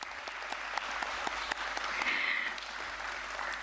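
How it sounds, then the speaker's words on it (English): A crowd claps steadily in a large convention hall at a stock exchange listing ceremony, a dense patter of applause with a few sharper individual claps standing out. "Let's begin this morning with a thunderous round of applause."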